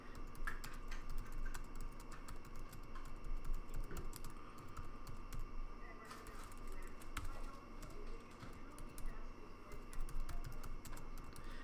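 Rapid, steady typing on a computer keyboard fills the room with dense clicking keystrokes, with a faint bird cooing softly in the background and no voices.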